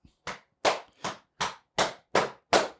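Cupped hands clap against the body in a steady rhythm, eight sharp, close slaps spaced about a third of a second apart with quiet gaps between them.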